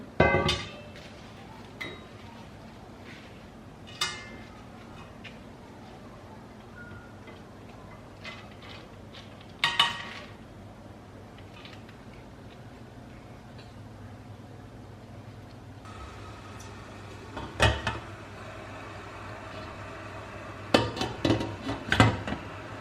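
Scattered metallic clinks and clanks of a steamer pot being set down and handled, sparse knocks over a quiet kitchen background.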